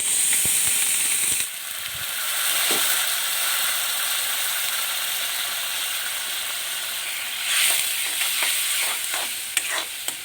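Cumin powder masala frying in oil for a rajma dish hisses and sizzles steadily after water goes in, with occasional scraping stir clicks and a sharp burst of sizzle near the end.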